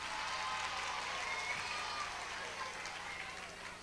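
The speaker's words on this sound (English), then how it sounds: "a round of applause to all those who participated in the Yud Beis Psukim" A steady, fairly faint round of crowd applause at a Lag Ba'omer rally, a dense even wash of clapping that holds throughout and tapers slightly at the end.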